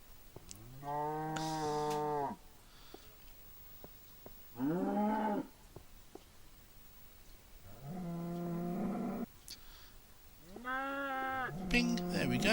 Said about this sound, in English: Little baby cow.